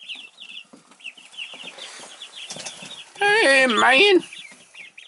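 Week-and-a-half-old chicks and ducklings peep in a brooder with soft cheeping throughout, then a louder burst of calls and wing flapping near the end; someone speaks briefly.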